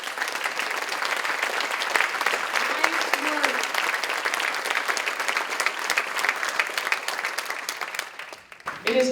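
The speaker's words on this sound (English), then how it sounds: "We want to give you a round of applause." Sustained audience applause at an awards evening for a selection committee, a dense, even clapping crowd lasting several seconds before fading, with brief talk and a thump at the end.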